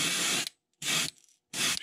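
Paint sprays onto a shad-pattern fishing lure in three strong bursts of hiss, each about half a second long and separated by short pauses, close and loud with no talking.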